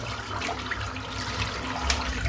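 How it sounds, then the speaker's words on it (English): Steady rushing water with a low churning rumble, like a container being emptied down a drain, continuous throughout and fairly close. "chucking all this water away"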